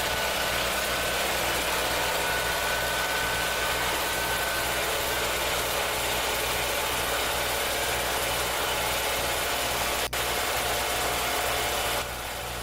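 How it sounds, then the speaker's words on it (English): A Simplicity Sunstar garden tractor with a Kohler Magnum engine idles close by, a steady, unbroken drone lasting about twelve seconds with no talking. "Those Kohler Magnums run so nice and so strong."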